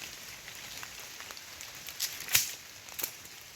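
Light rain falling outdoors during a morning fishing outing, a faint, steady patter of drops with a few slightly louder splashes standing out.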